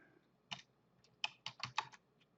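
Keys on a computer keyboard are typed in a short, quiet burst of about six close clicks, unevenly spaced, with no talk over them.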